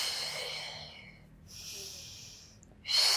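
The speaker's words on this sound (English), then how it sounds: "Just breathe in as you go up. And exhale." Slow, deliberate breaths during a Pilates foam roller exercise: an airy inhale, a pause, another long breath, then a sharper exhale, close and soft with no talking.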